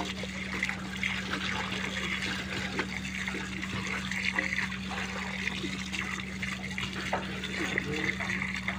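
Water poured in steadily, a continuous trickling wash with a low constant hum beneath, while people talk in the background throughout.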